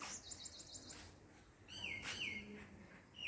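A sparrow chirps close by in several short high bursts, quick repeated tweets at first and then a few sharper descending calls later, faint against quiet surroundings.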